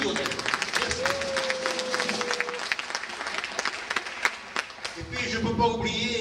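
Audience applause for the lyricist Lionel at a troupe's stage presentation, a dense patter of clapping from a crowd that runs steadily and is loud throughout.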